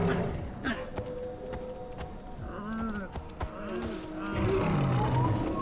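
Low, rumbling growls from a big cat, with buzzing insect-like hum and ambient noise around it; the growls build louder toward the end.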